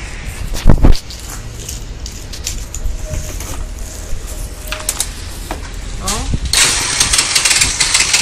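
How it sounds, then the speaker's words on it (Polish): Small engine with its spark plug removed being started, a sharp loud pull and sputter near the start, then uneven running noise with people talking over it and a rising whine toward the end. "I teraz odpala, zaraz wam pokażę."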